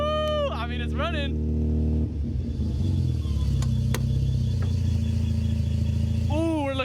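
Mazda FC RX-7 rotary engine running at a steady idle, a continuous close rumble with a smooth, even drone and occasional faint rattles, while people talk over it at the start and end.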